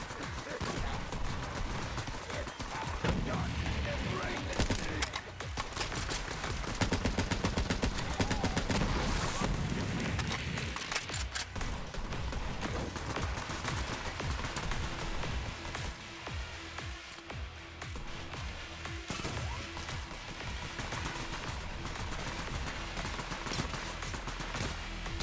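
Rapid gunfire from a gun in a video game rattles on almost without pause, dense bursts sitting loud over a busy wash of game noise.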